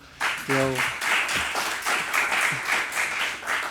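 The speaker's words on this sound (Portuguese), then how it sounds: "uma salva de palmas para ele" A small group at a startup demo day applauds a colleague, steady clapping that runs for several seconds, with a brief voice near the start.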